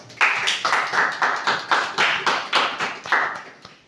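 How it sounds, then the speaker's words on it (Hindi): Loud claps in a steady rhythm, about eight beats evenly spaced, crisp and close, with no voices. "मुकुल की एक जोरदार ताली, क्या बात।"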